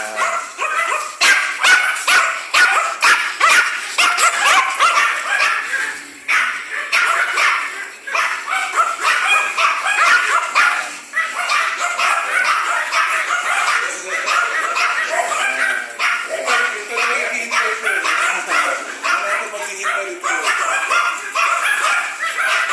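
Several imported Pomeranians bark and yip rapidly and continuously, close and loud, with overlapping high-pitched bursts throughout.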